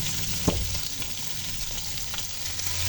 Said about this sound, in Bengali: পেঁয়াজ কুচিটা দিয়ে এখন এটা ভেজে নিই।